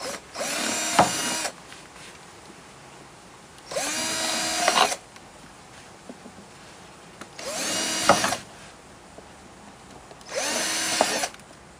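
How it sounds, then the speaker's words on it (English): A small power drill bores four mounting screw holes for a curb alarm sensing unit. Four close, loud whirring bursts of about a second and a half each come at even intervals, with quiet gaps between them and no talk. "I'll go ahead and drill these 4 holes"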